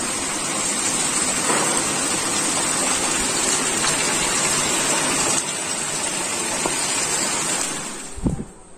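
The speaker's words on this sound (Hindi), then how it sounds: "बहुत तेज बारिश हो रही है, गजब बारिश हो रही है" Heavy rain pours down in a steady, dense roar, close and loud throughout, easing only slightly near the end, with no voices over it.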